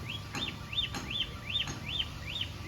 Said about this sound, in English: They are one of the sweetest parrots.